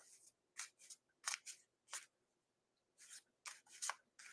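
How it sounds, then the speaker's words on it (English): Soft, close riffling and sliding of tarot cards in quick bursts, a pause in the middle, then more shuffling strokes, quiet and crisp. "let me shuffle the cards for Kim"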